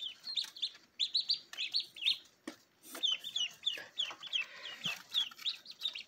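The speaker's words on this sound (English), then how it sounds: "These are Rouen ducks," Many small Rouen ducklings peep continuously in quick, high-pitched chirps, close by, with a few soft scuffling sounds among them.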